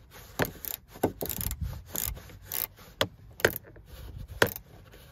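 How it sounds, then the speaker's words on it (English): A 7mm socket ratchet loosens the right sun visor screws on a 2014 Nissan Pathfinder, giving quick, close clicking bursts with short pauses between turns, fairly quiet, with no talking. "Just loosen up these screws right here."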